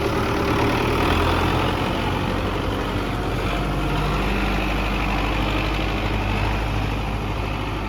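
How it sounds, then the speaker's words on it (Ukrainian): A heavy diesel tractor engine idles steadily nearby on a farm while loading corn, a loud low rumbling drone with no voices. "Грузимо нашим трактором, шкуном."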